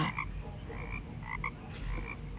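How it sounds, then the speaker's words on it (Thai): A frog croaks loudly in an animated Aesop's fable about frogs and bulls, a series of repeated, clear croaks close up with no talking. "กบผู้หวาดระแวง จึงตะโกนร้องเสียงดังๆ เตือนเพื่อนๆทันทีว่า"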